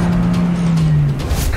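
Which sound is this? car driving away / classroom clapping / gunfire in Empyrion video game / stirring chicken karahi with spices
car driving away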